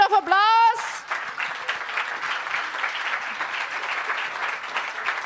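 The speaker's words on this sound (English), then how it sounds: "Please give them a big round of applause" A startup-pitch event audience in Stuttgart gives the judges a round of applause, dense continuous clapping after a brief opening voice, steady and full for several seconds.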